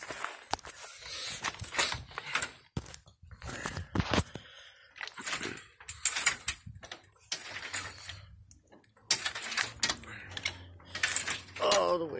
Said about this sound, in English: we're going to jack it up as much as you can